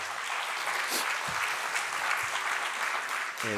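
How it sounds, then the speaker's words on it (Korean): Warm applause from a church congregation for its volunteer teachers, a steady wash of clapping throughout with a few brief low thumps near the end. "우리 수고한 교사들에게 박수 한번."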